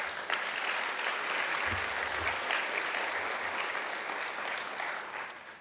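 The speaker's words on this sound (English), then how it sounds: "You can give that a round of applause." A community audience at a city civic event in Santa Monica breaks into a round of applause, a dense, steady wash of many hands clapping that holds evenly for several seconds before tapering slightly near the end.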